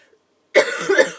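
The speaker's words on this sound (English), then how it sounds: "Sorry, I'm coughing, I'm just sick as hell" A single harsh cough bursts out after a stretch of near silence, followed by a second rougher spasm, close and fairly loud.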